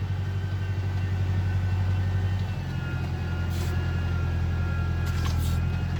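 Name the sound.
5450 tractor engine running while digging a canal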